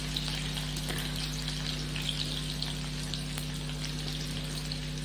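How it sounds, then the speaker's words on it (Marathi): Finely chopped onions fry in hot oil for a drumstick-pod curry, giving a steady, fine crackling sizzle at moderate level over a constant low electrical hum, with no one talking. "ही कांदी छान करपूस थोडं गुलाबी रंगावरती भाजून घ्यायची"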